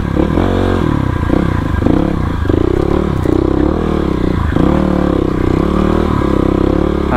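Supermoto motorcycle climbing a slippery uphill trail near Pasi beach, a loud, close engine drone with pulsing throttle changes, clattering and scraping throughout, no talk.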